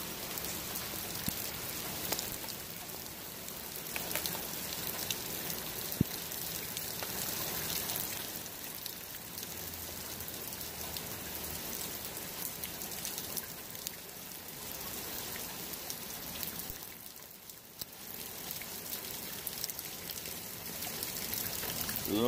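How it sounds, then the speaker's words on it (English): Steady rain falling on a rainy day, a dense hiss of drops on surfaces with occasional trickles, continuous and fairly quiet with no talk. "Beautiful rainy day."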